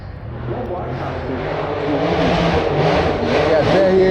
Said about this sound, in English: big bass on the engine, of course, because you know Porsche boxer engines